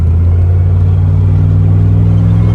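A deep, steady exhaust rumble from a 1998 Chevrolet C1500 pickup with a junkyard exhaust modification, loud and close while driving, droning evenly throughout without talking.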